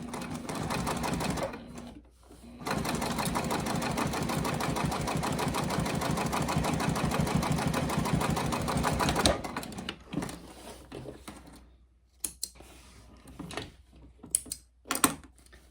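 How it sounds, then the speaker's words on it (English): A sewing machine stitches a double stitch line on the bib of a pair of overalls, running as a loud, steady rapid chatter for several seconds before stopping, then quiet handling noises and brief bursts. "I'm going to stitch one on top of the line I just made."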